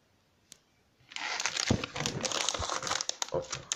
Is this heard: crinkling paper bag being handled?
yes